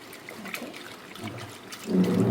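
Water from soaking dosa batter ingredients pours out and splashes steadily, quiet at first with a few light drips, then rising into a fuller, louder gush toward the end.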